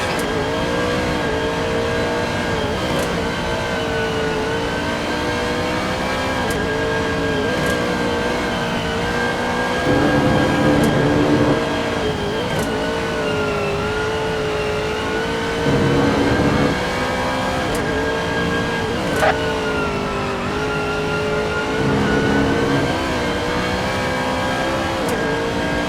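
A GT race car laps the Nürburgring Nordschleife in a steady, loud engine drone that swells and falls through gear changes and revs, with several brief harder bursts of throttle along the way.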